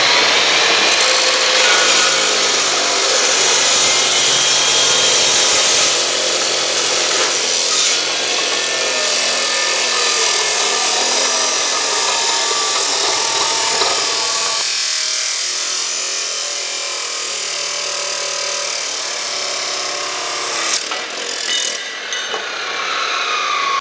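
Cold cut saw and abrasive saw both cutting metal, a continuous loud grinding, rasping whine that runs steadily for about twenty seconds, thinning partway through as one blade finishes, with no talk.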